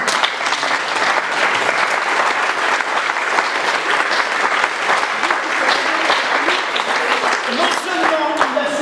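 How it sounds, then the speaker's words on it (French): An audience applauds loudly and without a break, dense continuous clapping filling the whole stretch while voices sound faintly beneath it. "Applaudissez très fort."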